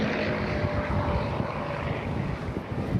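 A piston-engined fighter aircraft named Warhorse, painted in Colonel Donald Blakesley's colours, roars past at an airshow in Eastbourne, a loud, continuous propeller drone with a rasping edge, heard close and steady.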